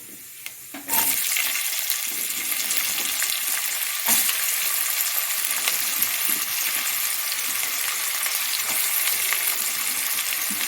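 Fennel, cumin, cinnamon, cloves and onion hitting hot oil for a spicy goat head curry: a quiet start jumps into a loud, continuous crackling sizzle, with an occasional stir or clink, close up and without talk.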